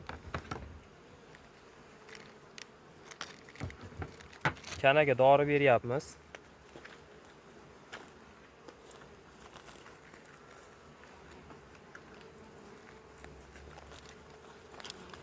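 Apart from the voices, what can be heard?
honeybees buzzing at the hive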